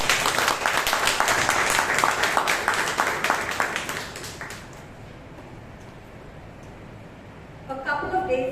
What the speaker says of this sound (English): let us together warmly welcome our guests with a thunderous applause